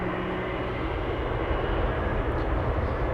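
A Boeing 777 engine spools up at an airport, a steady broadband roar with a rising whine, moderately loud and continuous, heard from a distance with no talk.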